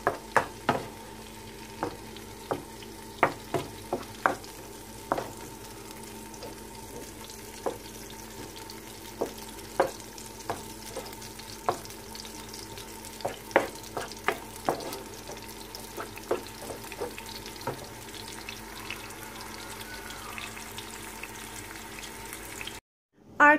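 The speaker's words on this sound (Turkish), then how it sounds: "Ben kavurmaya devam edeyim." Food is stir-fried in a pan: a steady low sizzle runs throughout, punctuated by regular scraping clicks of a utensil against the pan, close up and without speech.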